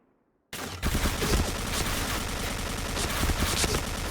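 Light machine gun fire in the Point Blank video game bursts in suddenly after a brief silence and becomes a loud, rapid, continuous stream of shots. It stays dense and close throughout, with no voices.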